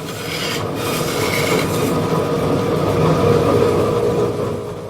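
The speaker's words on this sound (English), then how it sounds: "Shaping the hurl on the bandsaw is called sliding." A bandsaw slicing a wooden hurley into shape, a continuous loud rasping, rubbing cut with a low machine rumble underneath, steady throughout with no talk.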